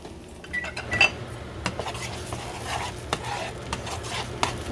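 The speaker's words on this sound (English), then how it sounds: "we're just going to mix this all together" A spoon stirs curry paste into a Prohok Ktiss mixture in a pot, giving close, irregular scraping and clinking taps over a soft background sizzle, with no voices.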